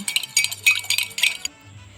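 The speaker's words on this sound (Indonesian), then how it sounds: "Lalu aduk sampai homogen." Quick metallic clinks of a spoon stirring used cooking oil in a glass, a rapid, uneven series of taps, close and bright, then stopping.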